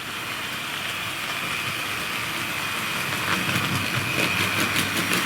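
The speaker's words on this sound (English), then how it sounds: "So I've tacked it on to the end of the freight train, and it's having its first outing on the layout." A Tri-ang model railway 4MT tank locomotive running on a layout with a freight train, a steady whirring motor hum with faint wheel rattle that grows slightly louder toward the end, close and continuous.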